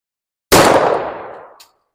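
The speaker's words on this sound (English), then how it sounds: "I'm just going to put another round in it." A single loud gunshot fired into the armor plate of a bulletproof motorcycle vest, outdoors, with a sharp close crack and a decaying blast that rings out for about a second, no voices.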